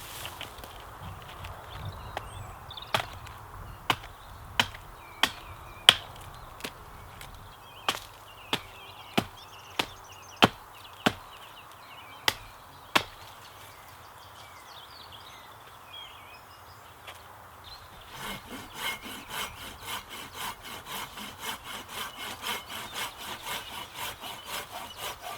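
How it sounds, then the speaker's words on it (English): Wooden fence posts are chopped and sawn to length for a bushcraft sheep fence: about a dozen sharp, evenly spaced chops ring out close by, followed by a long run of rhythmic rasping saw strokes. "The idea is to, when I'm cutting them to length, to cut the spike into it already where I can."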